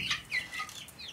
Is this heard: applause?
no